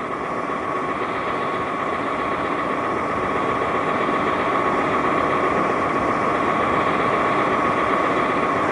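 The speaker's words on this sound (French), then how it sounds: "oui, un bruit de moteur, carrément" A steady mechanical motor hum fills a room in a house, droning continuously at an even level with a constant tonal whine and no voices.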